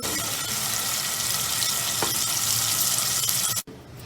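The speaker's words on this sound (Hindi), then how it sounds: "ये मसाला हमारा भुन गया है, अब हमने इसमें अपने चने ऐड कर देने।" Black chickpeas land in masala already frying in a pan, raising a loud, dense sizzle that holds steady, then a sharp break and quieter sputtering right at the end.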